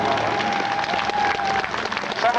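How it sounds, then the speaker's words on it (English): Crowd at the Yarmouth International Airshow applauding veterans beside a Catalina Canso aircraft, dense steady clapping throughout, fairly close and loud, with a thin tone running underneath. "Could we have a round of applause for them"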